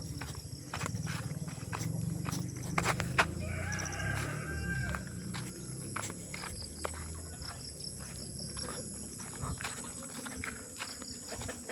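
Chickens cluck and a rooster crows in the background among steady outdoor noise, with scattered clicks and knocks nearby.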